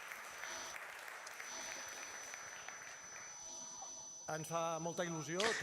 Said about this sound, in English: give them a clap, please